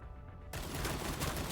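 Gunfire erupts in the video game Cyber Knights: Flashpoint, a sudden loud, dense burst of shots that starts after a quiet half-second and continues as a sustained, rattling volley.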